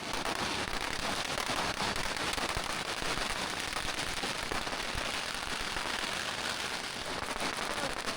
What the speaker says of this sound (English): The sidewalks were packed with people watching and throwing firecrackers.